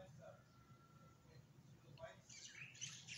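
Several birds chirp and tweet faintly, growing brighter toward the end, over a low steady background rumble.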